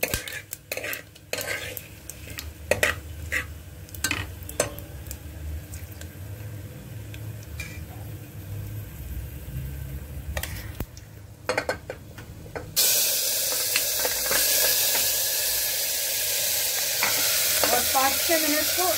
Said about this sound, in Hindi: और 5-6 मिनट तक मटन को भूनेंगे